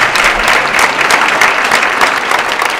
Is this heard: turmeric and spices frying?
no